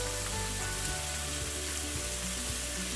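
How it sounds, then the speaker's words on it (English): Tomato and chili paste frying in a pan for mutton biryani, after charred onions, giving a steady, close sizzle and crackle with faint stirring, continuous throughout with no talking. "So we're going to add our tomato now and some of the paste."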